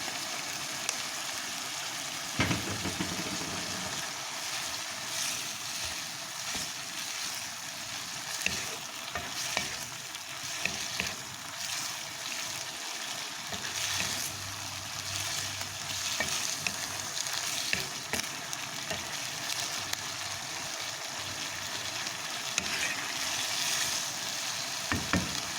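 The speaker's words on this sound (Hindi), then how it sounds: "सोया सॉस डालेंगे।" Keema macaroni sizzling and frying steadily in a pan after soy sauce is added, with occasional stirring scrapes, close and continuous without talk.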